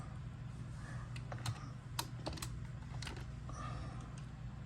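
Typing on a computer keyboard while pasting load numbers into a worksheet, a steady run of close, light key clicks with a few sharper taps over a constant low hum, and no one speaking.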